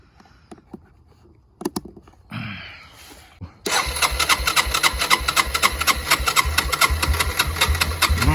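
A 2003 Yamaha Bear Tracker 250 ATV engine cranks with a few clunks and a brief whir, then catches and runs at a steady, loud, rapid chugging idle.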